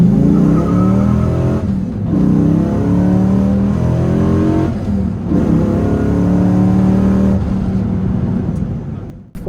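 A Dodge Ram SRT10 pickup with a 500-horsepower engine roars loudly up close, revving hard and accelerating through several gear changes, the pitch climbing and dropping with each shift.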